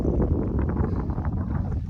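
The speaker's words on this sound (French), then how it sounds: "par contre, il y a beaucoup de vent" Strong wind gusting across a lake at Vaudreuil while kayaking, a loud rumbling buffet of wind on the microphone with faint rustling and water movement, no talking.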